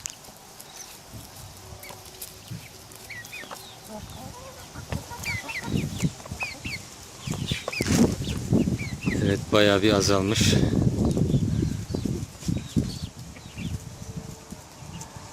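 Chickens peck at their feed, with scattered clucks, pattering and bursts of wing flapping that swell and grow busier midway, close by, while a person talks briefly.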